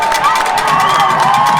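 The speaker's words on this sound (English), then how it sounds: "Bulldog fans getting loud here. Crowd comes to their feet at Murphy's sideline." A loud high school football crowd of Bulldog and Murphy fans cheering and shouting during a Murphy versus Franklin game, a dense sustained roar with high whoops rising above it.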